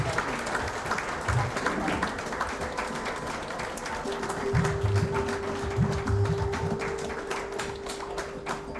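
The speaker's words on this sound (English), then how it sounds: "please keep clapping for them" Audience applause and clapping at a recognition moment during a live-streamed event honoring service staff, a steady dense wash of many hands sustained throughout with some chatter underneath.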